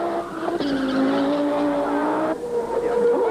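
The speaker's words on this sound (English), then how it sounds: "watch this car getting onto the road, it accelerates away" A 1988 Audi Quattro rally car on a rally stage in Nelspruit accelerates hard away onto the road, engine note climbing through the gears with a brief gearchange break, loud and close, no voices.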